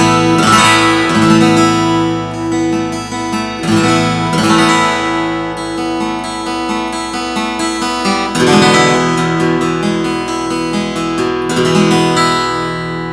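A Morris W-100 acoustic guitar with jacaranda back and sides is played alone, with ringing strummed chords and picked notes. The deep bass and bright trebles sustain long between strokes.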